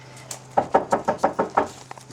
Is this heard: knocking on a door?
yes